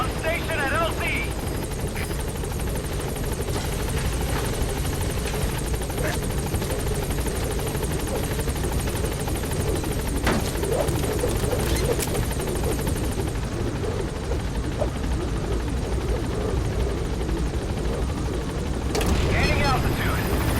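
A helicopter in the video game Metal Gear Solid V: The Phantom Pain drones steadily with loud rotor roar throughout, while radio voices speak over it.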